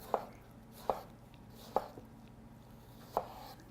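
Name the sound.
cutting a tomato with a knife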